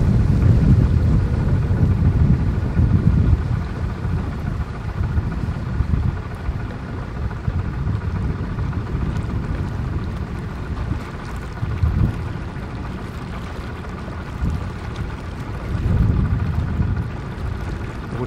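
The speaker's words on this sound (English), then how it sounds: "A bit windy at the moment." Wind buffets the microphone in heavy low rumbling gusts aboard a narrowboat on a canal near Leighton Buzzard, swelling and easing over a long stretch with no voices.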